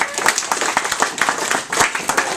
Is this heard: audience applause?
yes